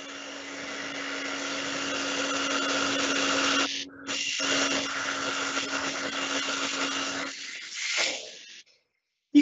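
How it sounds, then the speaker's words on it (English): A hairdryer blows a steady, loud roaring stream of air held up to float a ping pong ball, cutting out briefly midway and again near the end before switching off. "especially if you've got something like a hairdryer"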